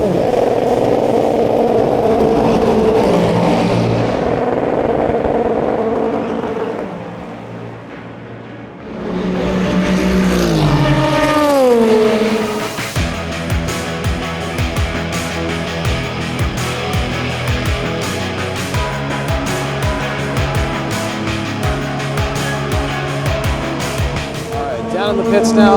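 Race cars at a US auto race scream past up close, their engine notes sweeping down in pitch as they pass, then settle into a loud, continuous buzzing drone of several cars circulating.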